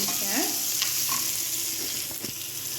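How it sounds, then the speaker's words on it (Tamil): Chopped onion frying in oil in a kadai, a steady close sizzle with light stirring scrapes throughout, no voices. "அந்த வெங்காயத்தை நான் இதில் சேர்த்துக்கிறேன்"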